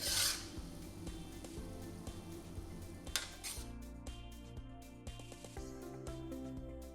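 A spatula scrapes and clinks in a pan while stir-fried bean sprouts, tofu, green onions and white pepper are mixed, with a sizzle at the start and steady repeated metallic taps throughout, near and fairly quiet.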